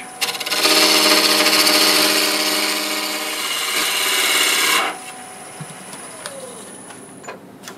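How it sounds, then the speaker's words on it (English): A half-inch bowl gouge cuts a spinning wooden yo-yo blank on a lathe with a loud, steady rasping scrape for about four seconds, then the tool lifts off and only the quieter hum of the turning piece remains. "Just a 1/2 inch bowl gouge."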